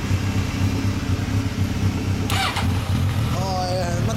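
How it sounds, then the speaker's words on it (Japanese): A 2016 Suzuki GSX-S1000F ABS motorcycle engine starts and settles into a loud, close, steady idle, while brief voices cut in near the end. "ごめんエンジン音聞かせてもらってもいいかな。"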